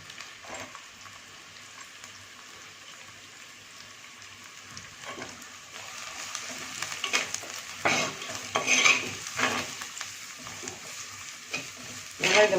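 Onions and vegetables sizzle in a pan for semiya upma, with steady frying hiss and intermittent stirring scrapes of a utensil that grow busier partway through.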